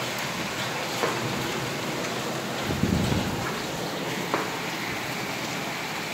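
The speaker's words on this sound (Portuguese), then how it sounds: "Chuva de pedra aqui, ó. Olha que coisa absurda." Hail pours down outside in a heavy storm, a dense, loud continuous hiss of stones striking surfaces, with a few brief louder impacts and a low rumble near the middle.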